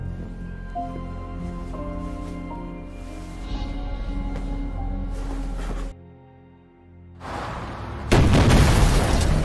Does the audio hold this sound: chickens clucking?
no